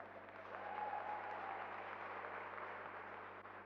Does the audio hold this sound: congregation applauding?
yes